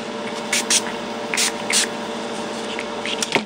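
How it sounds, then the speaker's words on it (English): Spray bottle of shimmer ink misting onto a canvas in several short bursts, quick airy hisses spaced irregularly over a quiet background. "if you spray a couple of times you can build up a really deep, pretty brown color. So I'm just spraying randomly."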